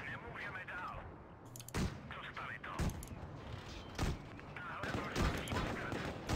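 Tank cannons in World of Tanks Blitz boom in four or five sharp, heavy blasts spaced about a second apart, loud over busy game noise with someone talking throughout.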